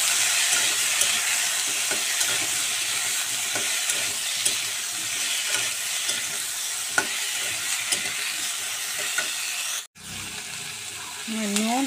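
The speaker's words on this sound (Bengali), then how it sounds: "এখানে রাখা লম্বা লম্বা আলুগুলো কেটেছি আর টমেটো, এখন এর মধ্যে আমি দিয়ে দিব, দিয়ে একটু কষিয়ে নেব।" Sliced potatoes and tomatoes sauté in a pan with a steady close sizzle and occasional stirring scrapes, broken near the end by a sharp knock and a brief drop before the frying resumes.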